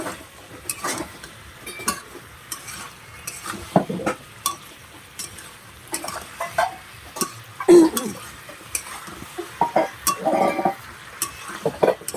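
Cut eggplant and potato being stir-fried in a pan at home, with a low sizzle under intermittent scraping and clinking of a utensil against the pan.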